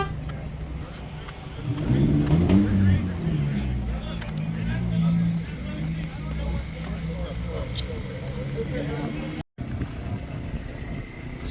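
Race cars at a trackcross event at ORP rumble past one after another, a steady mid-pitched engine drone that swells briefly near the start, with people talking over it throughout.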